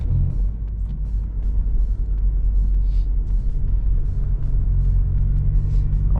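Alfa Romeo Brera 3.2L V6 accelerating, a deep, steady low rumble building under road noise inside the cabin, with occasional faint clicks and no talk.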